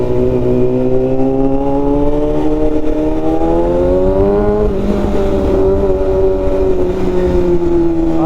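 A Kawasaki ZX-6R motorcycle is ridden with its engine droning loud and close throughout, pitch climbing gradually and then settling into a steady cruise.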